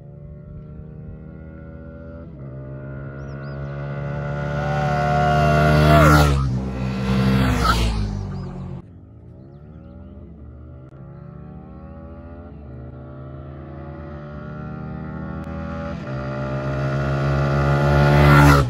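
A TVS Raider 125cc motorcycle accelerates hard in a drag race, its engine note climbing steadily, dropping briefly at a gear change, then rising again, loud and close throughout.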